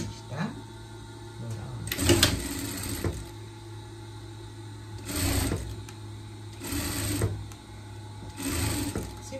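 A sewing machine hems the front of a small pet dress, running in three or four loud close bursts separated by pauses, over a steady background hum.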